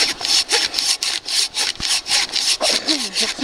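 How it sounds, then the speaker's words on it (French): A hand saw rasps back and forth through greasy wood outdoors, its teeth clogging with residue, giving steady rhythmic strokes about two or three per second, close and loud with no voices. "Il y a une pellicule pas possible à chaque fois sur les dents de la scie."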